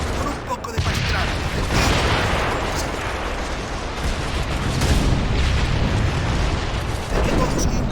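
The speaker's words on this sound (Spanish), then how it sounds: "Esta ametralladora es peligrosa." Rapid machine gun fire in a video game, a dense, continuous crackling barrage with sharp bursts that stays loud and close for the whole stretch without a break.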